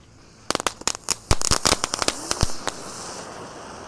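A lit three-colour super spinner firework burning: a dense burst of sharp crackling pops and snaps in quick, irregular succession, thinning out into a fizzing hiss, fairly close with no talk.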